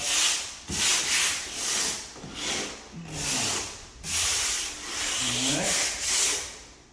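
A door surface is scuffed with sandpaper before painting: repeated close, rasping back-and-forth strokes in a steady rhythm, each pass a bright hissing swell followed by a brief pause.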